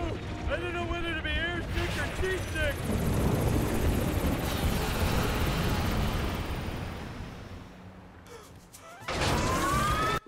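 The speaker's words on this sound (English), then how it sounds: "here's the third and final cliche for this level. Flying boat." A flying boat in The Simpsons Game gives off a loud, steady whirring engine drone, like a helicopter, that holds throughout. Brief musical tones chime at the start and end.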